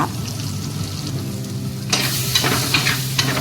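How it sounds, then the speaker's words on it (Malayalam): Chili, coriander and turmeric powders sauté in a pan for a Kerala fish curry with ground raw coconut, a low frying hiss giving way to sharper scraping and stirring scuffs near the end, close by with no talk. "എന്നിട്ട് നന്നായി വഴറ്റി കൊടുക്കുക."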